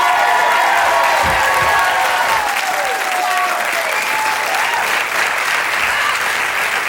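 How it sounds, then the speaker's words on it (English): Studio audience on a 1992 game show applauding a contestant, sustained loud clapping with scattered cheers and a few faint voices mixed in near the start. "Give him a great big round of applause."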